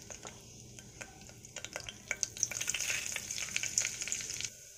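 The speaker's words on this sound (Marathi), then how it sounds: "तेल गरम झालं की त्यामध्ये खडे मसाले घालून घ्यायचे।" Whole spices frying in hot oil in a pressure cooker, a close crackling sizzle with scattered pops that grows busier and louder as it goes.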